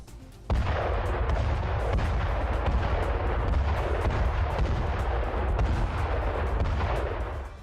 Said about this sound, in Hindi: इजरायली एयरफोर्स और आर्टिलरी ब्रिगेड ने दक्षिणी लेबनान में कहर बरपाया है।